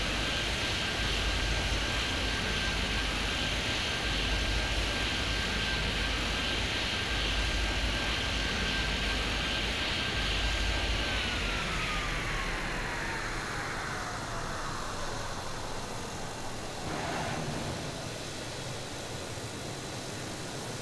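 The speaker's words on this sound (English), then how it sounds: "cleared immediate takeoff, runway 2, 7" A video-game airliner takes off at an airport with a loud, steady jet roar and a high whine that holds and then sweeps downward as the aircraft climbs away, with no voices.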